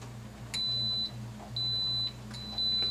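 An Instant Pot electric pressure cooker gives three electronic beeps, each about half a second long, in a steady pattern over a low constant hum, when its yogurt boil setting finishes.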